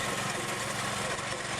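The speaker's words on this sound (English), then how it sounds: "The machine rumbles awake, huffs, and sets into pushing the rod" A Michigan well-drilling rig's engine rumbles steadily, a dense, continuous mechanical drone with a low throb, loud and unbroken throughout the short stretch.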